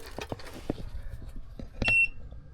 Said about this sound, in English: beep, that means the station is on.